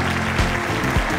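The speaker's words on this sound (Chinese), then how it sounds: "大家掌声恭喜他。" Audience applause for a contest finalist, a dense, loud burst of clapping that runs steadily through the whole moment, with no talk over it.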